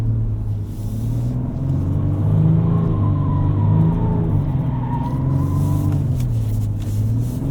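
A Ford Ranger Raptor on BFG KO3 tyres drives through winter snow, its engine giving a loud, steady rumble that swells with throttle, heard from inside the cab with no talking.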